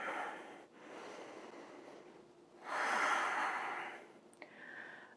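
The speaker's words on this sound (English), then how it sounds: "Just take one more deep breath." Slow, deep breathing during a yoga session, a soft drawn-out inhale and exhale repeated a few times, close and quiet with no talk.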